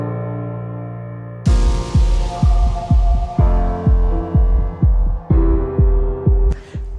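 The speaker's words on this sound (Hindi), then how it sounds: "CUV8 diamond D32 hydraulic cutter आता है जापान से, जिसकी विशेषता है 6 mm से 32 mm तक के आयरन और स्टील को चुटकियों" A Japanese Diamond D32 hydraulic rebar cutter for 6–32 mm iron and steel, with a 220-volt brush motor, starts with a loud hum, then settles into a steady rhythm of regular throbbing pump pulses about twice a second.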